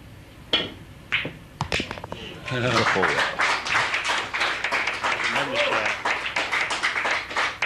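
A crowd at Ridgeways applauding a shot during a high-stakes 9-ball pool match, scattered claps that swell into sustained applause, with a commentator speaking over it.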